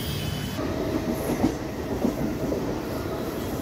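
A Mumbai local train running on the Harbour line, heard from inside the carriage as a steady rumbling roll with rhythmic clacks of the wheels over the rails.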